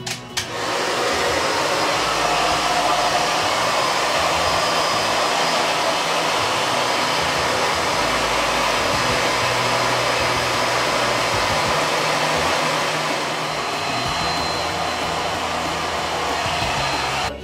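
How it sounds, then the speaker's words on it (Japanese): Asakura airless hair dryer attachment for a Nobby dryer blowing on permed hair in a salon, a steady loud whooshing roar that runs unbroken from start to finish with no talking. "朝倉のですね、 エアレスドライヤーっていうやつを、伸び用なんですけど、カチャッとつけて、ここでやるとすごく早く乾きます。"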